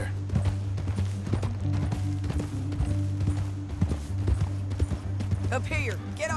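Horse hooves clip-clop steadily over rough ground in the Western video game Red Dead Redemption 2, with a constant low drone and a voice talking near the end.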